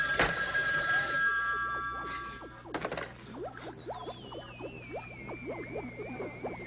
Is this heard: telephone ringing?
yes